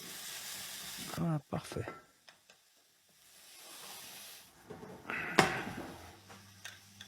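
Onions and lardons frying in a pan for a tartiflette while being stirred, with a soft steady hiss, a few scraping stirs and someone speaking briefly between them.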